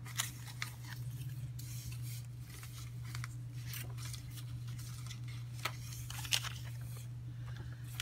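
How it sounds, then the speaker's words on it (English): Scissors snip paper pictures for junk journal pages, a series of quiet, close, irregular cuts over a faint steady hum. "So let me cut this out"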